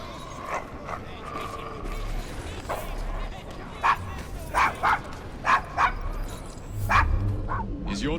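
A dog named Desmond, wary of strangers, barks in a run of sharp, separate woofs and yips on a gritty Victorian London street in Assassin's Creed Syndicate, with game ambience and scattered speech around it.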